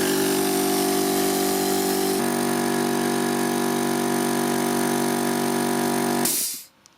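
An air compressor powered by an Oscal PowerMax 3600 power station runs loud and steady with a motor drone and a slight shift in tone partway. It then cuts off abruptly, leaving near silence.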